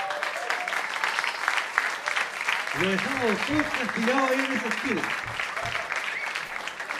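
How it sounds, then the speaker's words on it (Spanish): Audience at a Christian music festival applauding participants, sustained clapping running throughout while someone talks over it in the middle of the stretch. "denle un aplauso, están todos allá."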